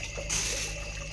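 Water runs steadily from a household tap, a close, continuous flow with a brighter rush starting partway through, with no talking.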